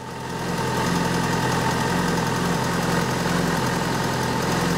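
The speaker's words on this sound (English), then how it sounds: "till the RPM drops to normal idle speed" A Yamaha Fazer motorcycle engine idles steadily and close by, a constant low throbbing rumble with a faint ticking knock, continuous and alone with no talking.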